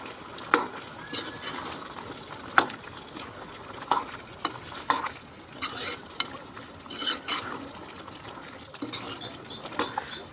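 Chicken masala frying in a pan with chilli powder and coriander powder is stirred. Repeated sharp scrapes and clinks of the utensil against the pan come in an irregular rhythm over a low sizzle, close up and with no talk.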